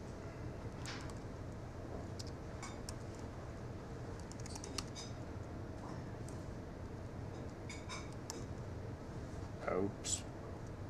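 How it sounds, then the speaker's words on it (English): Keystrokes on a computer keyboard during a software demo, scattered light clicks and short bursts over a steady room hum, with a few louder taps near the end. "I'm not too used to this keyboard here."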